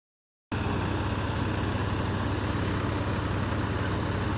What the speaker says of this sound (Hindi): This is carried out with the help of a machine called combine, which is in fact a combined harvester and thresher.